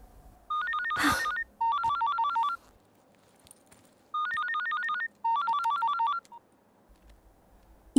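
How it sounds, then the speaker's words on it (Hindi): A phone ringtone chirps in repeated bursts of rapid electronic trills, four clear rings separated by short pauses. "sorry my phone is ringing"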